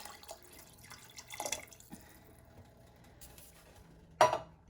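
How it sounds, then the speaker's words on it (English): Water from a corn can is poured into a pot of homemade soup, giving soft trickles and drips with a brief louder splash near the end in a quiet kitchen. "So I just used my corn can, filled it up with water."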